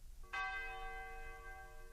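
A church bell strikes once, clear and resonant, its long ringing tone decaying slowly over a low background rumble, with no voices.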